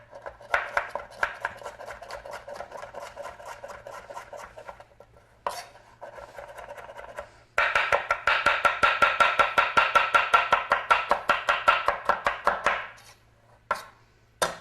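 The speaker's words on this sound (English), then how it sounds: "Chop vegetables." Knife chopping vegetables on a cutting board in rapid, even strokes, close and crisp, with short pauses and a faster, louder run of chops in the middle.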